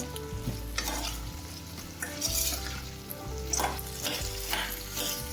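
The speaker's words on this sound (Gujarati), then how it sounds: "આ બધાને આમાં આપણે એડ કરી દેવાનું છે અને સારી રીતે અંદર તેલમાં મિક્સ કરી દેવાનું છે સાતડવાનું છે" Vegetables for Kathiyawadi undhiyu are stirred into hot oil in a pan on a full flame, with a close sizzle and bursts of stirring scrapes under steady background music.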